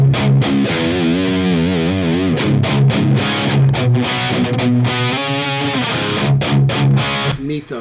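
An electric guitar plays through an 808 overdrive pedal into a Mesa Boogie Multi Watt Dual Rectifier amp. Loud, close, distorted chugging riffs alternate with ringing sustained chords.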